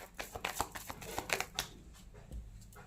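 Tarot cards being shuffled and drawn, giving a run of quick soft riffling flicks and card snaps up close, busiest early and then tapering into quieter handling.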